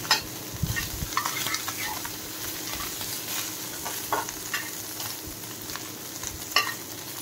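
Fish frying in a small amount of oil in a pan gives a steady, close sizzle with light stirring scrapes and scattered pops throughout, and no voices.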